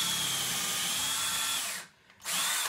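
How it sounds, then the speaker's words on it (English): Power drill boring into a short box elder log at the lathe, a steady loud whine that runs continuously, stops abruptly for a moment of near silence, then starts up again. "So, to drill a hole with the drill, and it goes round"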